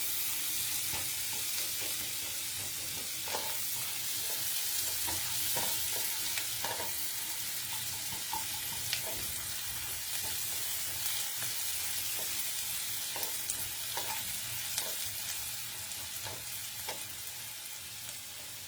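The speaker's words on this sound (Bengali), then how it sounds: "পেঁয়াজটাকে একটু লাল করে ভেজে নেব।" Onions frying in a pan for a mixed-vegetable paneer dish, a steady close sizzle with scattered crackles and light stirring clicks throughout, no talk.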